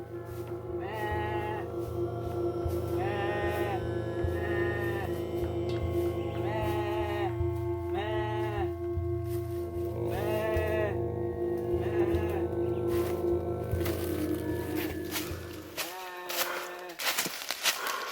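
A string of nasal, goat-like bleats repeats every second or so over a steady low drone, loud and close, then stops as the background shifts.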